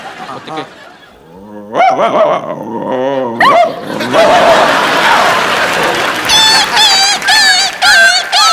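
On a comedy TV show stage, a voice imitates dogs fighting, with yelping, whining cries and snarling growls building into a noisy scuffle, while other voices and clapping sound in the background.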